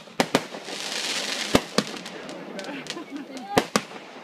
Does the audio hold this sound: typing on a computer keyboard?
no